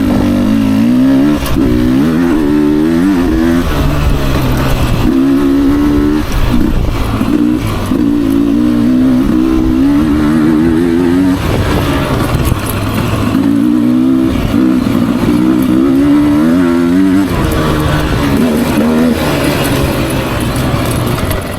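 A 2024 Beta 300RR Racing Edition dirt bike ridden fast along a trail, its two-stroke engine loud and close, rising and falling through repeated revs with clattering from the rough ground.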